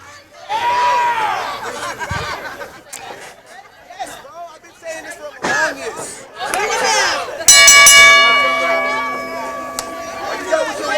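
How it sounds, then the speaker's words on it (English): A ring bell clangs to open a wrestling match in the Matthews Cup tournament, one bright sustained ring that cuts through a noisy arena crowd while a commentator talks over it. "Bell is rung. This match has begun."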